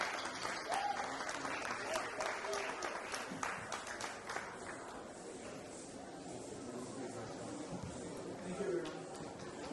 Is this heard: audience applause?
yes